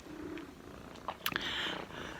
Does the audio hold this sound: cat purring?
yes